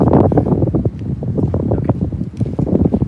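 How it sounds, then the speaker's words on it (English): Steady, loud wind buffeting the microphone, a broad rumbling roar with gusty bursts throughout. "It's windy."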